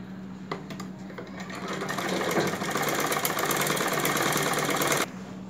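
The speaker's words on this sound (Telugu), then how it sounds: "ఇప్పుడు మనం ఈ విధంగా జాయింట్ చేసుకున్న తర్వాత డబుల్ కుట్టు వేసుకుందాము." A sewing machine running a double stitch along the joined seam of a prince-cut blouse, a steady close mechanical whir with rapid needle rhythm that speeds up midway, then stops abruptly near the end.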